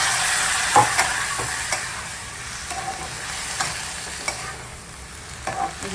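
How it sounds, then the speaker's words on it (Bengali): Sponge gourd and mixed vegetables with spices are stirred in a pan after a little water goes in, giving a steady, close wet sizzle with scraping and clacking strokes from the spoon throughout. "এবার আমি একটু জল দিয়ে দেবো, দিয়ে আবার একটু নেড়ে করে নেবো"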